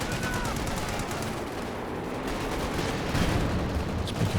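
Sustained .50 cal machine gun fire in a military strategy video game, a dense continuous rattle of rapid bursts that swells louder toward the end, with faint game noise underneath.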